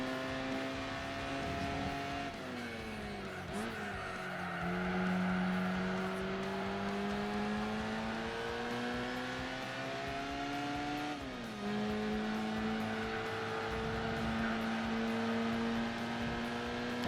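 A race car with a modified exhaust in Gran Turismo 4 on PS2 drones steadily at high revs, its engine note dipping briefly between gears and climbing again, loud, continuous and with no talk.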